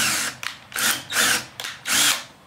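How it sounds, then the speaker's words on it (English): Power drill reaming out a tapped hole with a drill bit on a Rex800 build, three loud whining bursts that start and stop in close succession, each rising and holding briefly before cutting off. "So, I use the same drill bit that I used for the"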